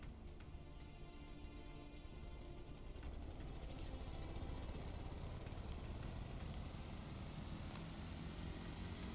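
A vehicle engine in the game Stormworks idles at low revs while connected to a generator, a steady, low, rumbling drone that holds constant and slightly swells in the second half.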